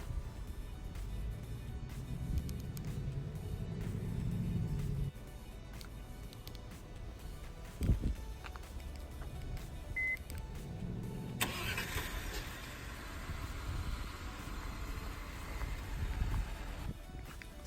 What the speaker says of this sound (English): this vehicle does come standard with remote start.